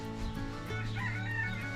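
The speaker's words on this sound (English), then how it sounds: "We discovered we have another rooster. That was him, if you heard that." A farm rooster near a chicken coop crows once, a loud sustained call close by that carries through the whole short moment.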